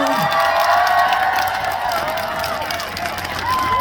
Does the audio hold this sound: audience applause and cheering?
yes